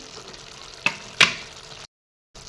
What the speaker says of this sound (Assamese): এয়া কাটি থোৱা বিলাহী আৰু আলুখিনিও ইয়াতে একেলগে এড কৰি দি দিলোঁ